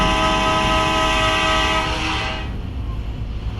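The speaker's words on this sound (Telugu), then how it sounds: "ఓకే ట్రైన్ అయితే మూవ్ కాబోతుంది గాయస్" A train begins moving off, with a loud steady rumble and a sustained tonal drone that fades after about two and a half seconds, leaving a low rolling noise.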